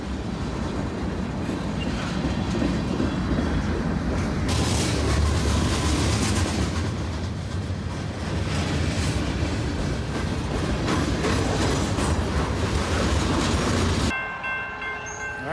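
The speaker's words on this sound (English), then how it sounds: "You guys can see this big long train." A long freight train rolls past close by, a loud steady rumble and rattle of rail cars with clickety-clack, running for about fourteen seconds before dropping off sharply near the end.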